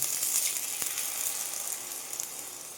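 Coriander and fennel paste with ginger frying in hot oil in a pan for a Bengali katla fish curry, a close, steady hiss and sizzle with one brief clink near the start.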